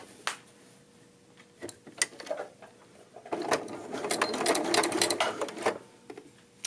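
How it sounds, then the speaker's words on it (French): Domestic sewing machine backstitching, running forward and reverse to lock a seam on a tone-on-tone tunic: short stuttering bursts of stitching, then a sustained, louder run of rapid needle clatter, with brief pauses between. "je vais venir faire un petit avance-recul pour barrer ma couture"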